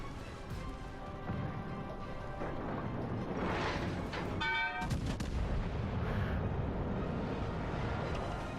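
Battleship secondary guns firing in World of Warships Legends naval combat, a few sharp booming shots and crashing impacts over a constant low engine and sea rumble, moderately loud.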